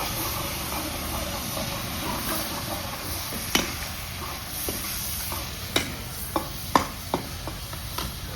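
Tomatoes fry and sizzle in a pan for a home-style bhandara sabzi, a steady hiss punctuated by sharp scrapes and clinks of a spoon stirring, close and unhurried.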